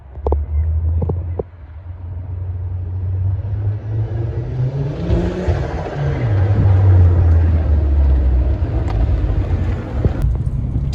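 A tuned Ford Focus ST225 engine running on too much boost, a loud, steady throaty rumble with uneven pulses and surges that suggest misfiring, sustained throughout with no talk.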